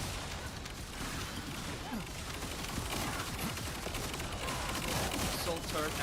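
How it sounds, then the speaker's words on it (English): Assault turret in The First Descendant firing nonstop, a dense rattling barrage of rapid shots layered with mechanical whirring and game effects, steady and loud throughout, with a voice talking underneath. "Operating assault turret."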